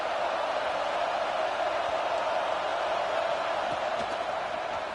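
Stadium crowd noise from a College Football 26 game, a steady, dense roar that holds evenly throughout at a moderate level.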